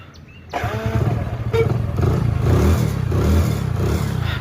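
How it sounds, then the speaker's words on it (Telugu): A Hero Passion Pro motorcycle engine cranks after a brief quiet moment, then catches and settles into a close, steady running putter that swells slightly toward the end. "ఇప్పుడైతే మనమైతే బండి అయితే స్టార్ట్ చేద్దాము"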